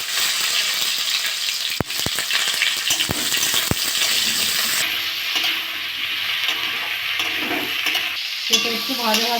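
Mustard seeds, panch phoron and a dried red chilli sizzle in hot mustard oil in a wok as star fruit chutney is cooked. The steady frying hiss runs throughout, broken by sharp spatula clacks and stirring scrapes.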